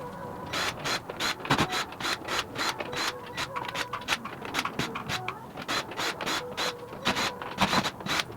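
Ryobi power driver fitted with a Phillips #2 bit backing screws out of a loaded subwoofer enclosure, giving repeated short whirring bursts with brief pauses between them, close up and fairly steady throughout.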